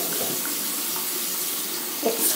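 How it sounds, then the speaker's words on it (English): Hot water pouring into a bowl while making slime, a steady splashing gush from a tap, close and continuous, with a small clink near the end. "Hot water goes in there."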